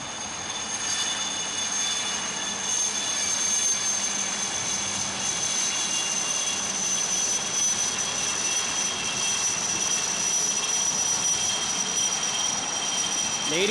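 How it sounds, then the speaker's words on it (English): Three Navy Chetak helicopters pass in arrowhead formation above the Gateway of India during the Navy Day ceremony, a steady loud rotor and engine roar that holds throughout, with high whining tones layered over broad noise. "Close behind are 3 Chetaks of the 321 Fleet Support Squadron in an arrowhead formation with Commander Kulkarni"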